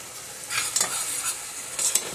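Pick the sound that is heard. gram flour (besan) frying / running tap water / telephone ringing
gram flour (besan) frying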